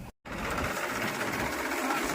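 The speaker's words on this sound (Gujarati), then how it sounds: "જયંતિભાઈ નું ટ્રેક્ટર ને જયંતિભાઈ નું લીલું આજ" A steady, loud engine drone runs continuously after a brief cut at the start, a tractor motor chugging nearby with no talking.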